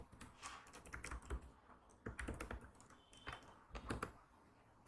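Fingers typing on a computer keyboard, quick irregular bursts of clicky keystrokes with brief pauses between words, close and moderately loud with no talking.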